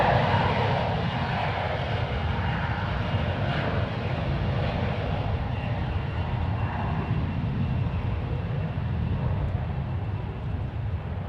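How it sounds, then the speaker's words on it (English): Alaska SkyWest airliner departing San Francisco International, a continuous jet engine roar at middle distance holding steady throughout, then easing slightly at the close, with no talk over it. "That was Alaska SkyWest Flight 3482 departing to San Diego."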